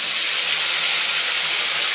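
Meat sizzling loudly in a hot pan, a steady bright hiss that holds without pause, close up and alone.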